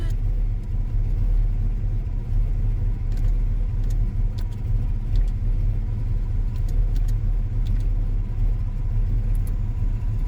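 A 1979 Pontiac Trans Am with a stock drivetrain cruises along, its engine a steady low rumble with road noise, constant and fairly loud throughout, no voices over it.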